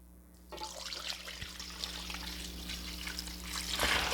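Four cups of soy sauce pour steadily into a beef jerky marinade, a continuous close liquid splashing and trickling that begins abruptly and grows slightly stronger toward the end.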